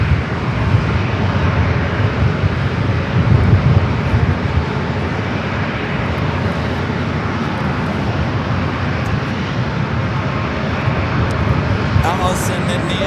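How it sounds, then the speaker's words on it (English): An Alaska Airlines jet takes off from runway 27 at San Diego airport, a broad continuous engine roar that swells early and then holds steady at moderate distance, with a voice talking over it. "Alaska 260, runway 27, clear for takeoff."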